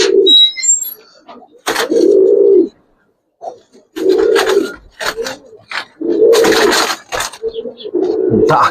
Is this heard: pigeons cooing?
yes